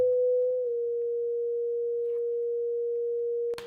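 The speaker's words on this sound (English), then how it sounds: "This is a sine wave." A pure sine wave tone holds steady and loud for over three seconds, with a small pitch shift near the start and a brief click at the end.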